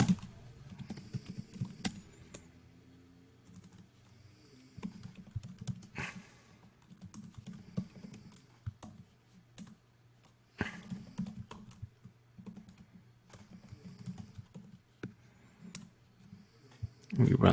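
Kotlin code being typed on a computer keyboard: bursts of quick, close keystroke clicks that come and go between pauses, with occasional louder taps and a voice talking in places.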